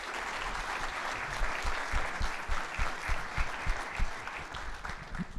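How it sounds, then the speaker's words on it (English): Audience at a data and AI summit applauding a senator: a roomful of sustained clapping, fairly distant and steady, with sharper individual claps close by toward the middle. "Another round of applause for Senator Fisher"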